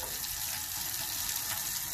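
Hot water runs steadily from a kitchen tap to clean a cast iron cornstick pan, a constant faint hiss and splash with no talking.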